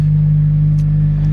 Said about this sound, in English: It gives it a little bit of rumble